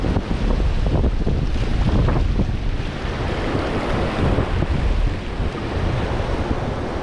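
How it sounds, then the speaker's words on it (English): Water rushes over rocks outdoors in a continuous loud, broadband roar, heavily buffeted by wind noise on the microphone, with no talking. "The moving water with these rocks look nice."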